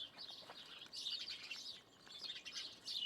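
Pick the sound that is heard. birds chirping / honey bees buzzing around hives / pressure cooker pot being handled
birds chirping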